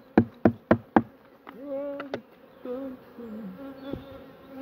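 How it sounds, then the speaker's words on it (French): Honey bees buzz around an open beehive while supers are being fitted, a few sharp knocks opening the scene before a wavering drone of close insects continues alone. "Les habitués au bruit, ces abeilles."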